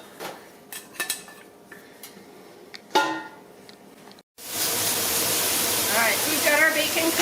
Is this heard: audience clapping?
no